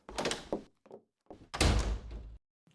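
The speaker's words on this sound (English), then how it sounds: "The door to the bedroom opened, and Elle, dressed to kill, marched out" A bedroom door opens with a few solid thunks and knocks of wood and latch, fairly close, followed by footsteps moving away.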